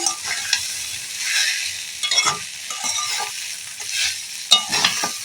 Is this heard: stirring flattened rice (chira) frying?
yes